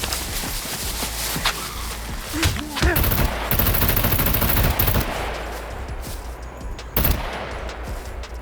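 Gunshots ring out in the survival video game SCUM, several sharp bursts including a rapid cluster of shots, mixed with movement and footstep sounds.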